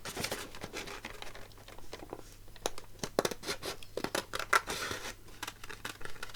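Scissors snip through paper close by in a quiet room, a run of short crisp cuts and rustles that come faster and louder toward the middle, with no talk.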